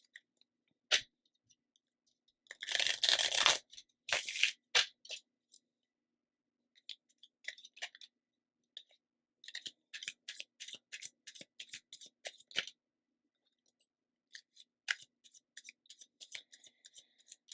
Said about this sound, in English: I want to get 3 cards for the stranger here.